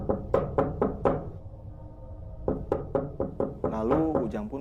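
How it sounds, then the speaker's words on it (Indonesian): Series of sharp knocks on a bathroom door from the inside, two bursts of about five rapid raps separated by a pause, fairly close and distinct. "tiba-tiba ia dibangunkan oleh suara ketukan yang berasal dari dalam kamar mandi."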